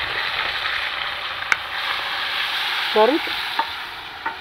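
Boiled potatoes dropped into hot oil with browned cumin and turmeric give a steady broadband sizzle with a few sharp clinks of a utensil, and a voice briefly exclaims partway through.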